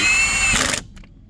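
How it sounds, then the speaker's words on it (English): A power tool briefly whirs while tightening a wheel hub bearing, a loud close burst that cuts off sharply into near silence. "ready to tighten everything down here and double check everything and make sure our bearing is tight as necessary"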